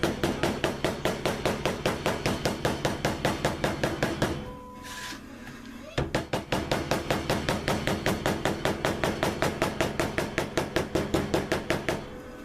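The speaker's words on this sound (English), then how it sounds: "I just take my little hammer and" A small hammer taps steadily along the stitches of a leather knife sheath, quick even knocks in a regular rhythm, close and crisp, pausing briefly midway before resuming.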